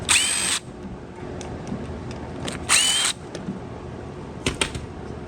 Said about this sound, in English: What you're gonna do here is just take out these two bolts.